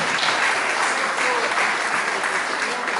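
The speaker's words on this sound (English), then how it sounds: "A big round of applause." An audience claps during a live interview event, a dense, loud burst of applause that fills the whole moment without a break.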